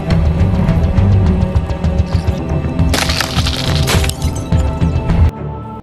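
Glass shattered by a small, potent chemical explosive: a loud crack and breaking burst rises over steady background noise and holds for about a second before cutting off.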